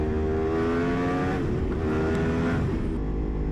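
A Yamaha R1 sport bike engine with electronic throttle revs hard and loud, pitch climbing then dipping and rising again in steady throttle blips, close by and with no talking.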